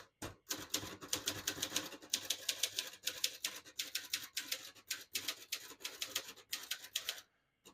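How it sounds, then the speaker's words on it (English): Rapid keystrokes on a 1960 Consul 232 ultra-portable manual typewriter, sharp clacks in steady bursts close up, ending with a brief pause and silence. "I'll type a sentence on the next line."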